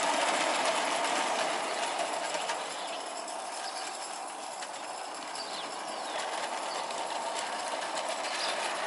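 Darjeeling B class model steam locomotive running slowly with its regulator barely open, a soft, steady mechanical chuffing and whirring with a faint rapid rhythm, fairly quiet and close.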